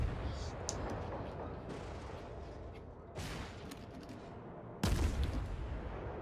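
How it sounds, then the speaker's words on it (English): Torpedoes strike a ship in a naval war game: rumbling, gunfire-like booms build under distant battle noise, and a loud, sharp impact lands near the end. "Got hit with torpedoes."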